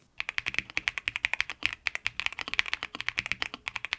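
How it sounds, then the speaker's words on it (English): Steady, quick typing on a modded KBDCraft Adam mechanical keyboard, crisp clacky keystrokes in a brisk rhythm, close up and alone. "how I prepared and modded the keyboard to achieve this typing sound"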